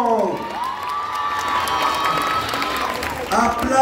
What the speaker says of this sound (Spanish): A ver, aplausos para el número 1.